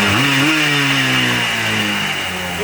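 A small ATV engine, formerly seized, catches and revs up quickly, then settles into a loud, buzzing, steady run close by, alone without talk.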